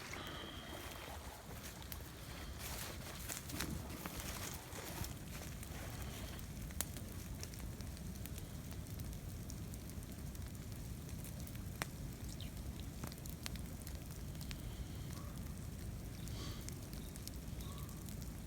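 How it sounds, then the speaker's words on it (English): Burn pile fire crackles steadily beside slow-flowing pond water, a continuous low wash with scattered sharp pops and snaps throughout, no voices. "That slow flowing water with the fire crackling in the background."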